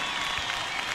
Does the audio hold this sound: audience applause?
yes